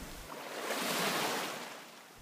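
Pacific Ocean surf on the coast of Panama washes in a soft, broad hiss that swells and recedes, steady and moderately loud, in the early morning with no voices.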